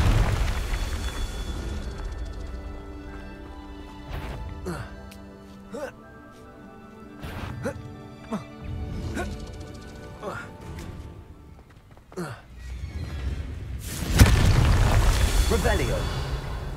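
A Confringo spell explosion in Hogwarts Legacy, a loud fiery burst near the end following a quieter stretch of magical chimes and soft impacts, with a voice speaking briefly.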